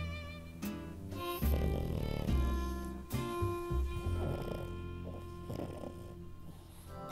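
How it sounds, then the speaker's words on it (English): A pet snores softly with slow, rhythmic breaths, quiet and close, beneath a low background hum. "if you guys hear snoring, it's because Cookie fell asleep right here,"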